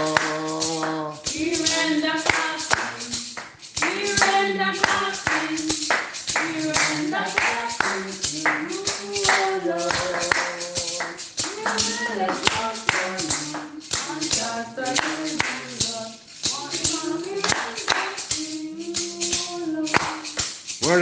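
A church congregation claps hands in a steady rhythm during a worship song, loud and continuous for the whole stretch, with voices singing along over the claps.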